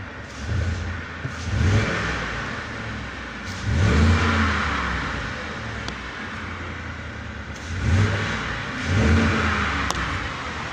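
A car engine revs up and settles back repeatedly in rising surges about every two to three seconds, loud and close, with a steady running drone between the bursts.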